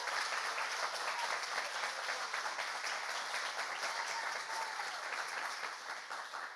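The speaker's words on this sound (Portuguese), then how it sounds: "Se for para aplaudir Jesus, aplaude de verdade" A church congregation applauds Jesus with sustained, dense clapping that fills the space evenly, loud and continuous for several seconds with no voices over it.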